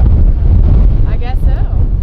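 Wind buffets a microphone at Arches National Park on a hot, partly cloudy day, a steady loud rumbling gust with faint voices underneath.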